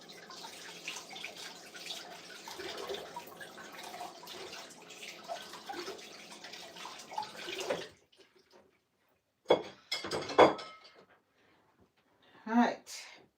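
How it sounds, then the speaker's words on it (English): Tap water runs steadily over a wooden spoon being washed in a sink, a continuous splashing rush for about eight seconds, then stopping, followed by a few short, sharp bursts of water and clatter. "Let me wash my wooden spoon here."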